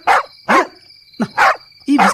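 A puppy in a Malayalam radio drama barks five times in a sharp, loud, close sequence, with short pauses between the barks.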